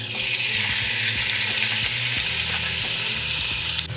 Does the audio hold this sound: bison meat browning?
yes